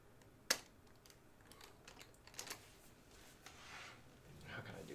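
A few scattered key taps on a computer keyboard, with one sharp click standing out, sparse and close, over faint room noise.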